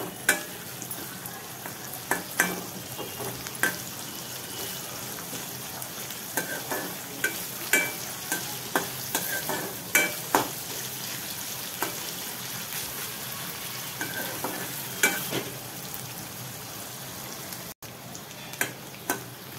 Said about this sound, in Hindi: प्याज, हरी मिर्च, प्याज को हल्का लाल होने तक का इन्हें अच्छी तरह से भुनना है